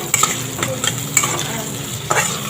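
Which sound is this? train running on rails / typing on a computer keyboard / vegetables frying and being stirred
vegetables frying and being stirred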